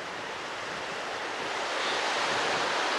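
Ocean surf breaking on a beach at Sea Isle, a steady broad roar of crashing water with wind rushing across the microphone, swelling slightly louder toward the end and no voices over it.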